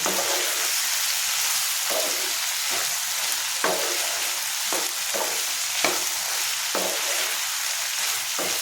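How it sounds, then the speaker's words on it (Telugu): Cluster beans and dried prawns sizzle and fry steadily in a pan, with occasional stirring scrapes breaking through the constant crackle. Close and continuous, with no talk. "ఇది సిమ్లో పెట్టుకుని కనీసం 10 నిమిషాలైనా కొంచెం మెత్తగా అయ్యేదాకా ఉడికించుకోవాలి"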